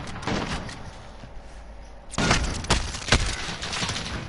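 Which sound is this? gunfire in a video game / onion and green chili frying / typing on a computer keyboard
gunfire in a video game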